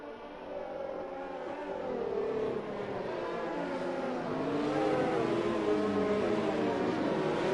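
Race cars in a sim racing game at Bahrain produce a continuous, fairly quiet engine drone, several overlapping tones gently rising and falling and growing a little louder toward the end, with no talking over them.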